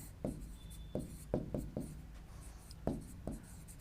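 Chalk or marker writing on a board, a series of short scratchy strokes in irregular rhythm, close and fairly faint, with no talk over it.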